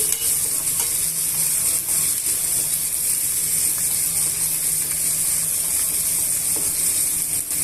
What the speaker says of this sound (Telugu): ఇవన్నీ కూడా మిక్స్ చేసుకొని బాగా వేయించేసుకోవాలండి